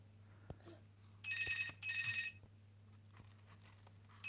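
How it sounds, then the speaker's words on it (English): A telephone rings in two loud electronic bursts, each about half a second, against a quiet room hum with a few faint clicks around them. "my phone's ringing"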